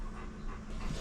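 A Labrador dog panting close by in a steady rhythm of quick breaths, with no voices over it.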